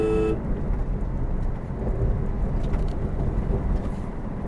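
Car driving steadily in fifth gear at about 60 km/h, a continuous low engine and road rumble throughout, fairly loud and close, with no distinct gear change audible.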